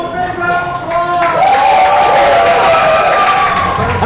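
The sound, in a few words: audience applause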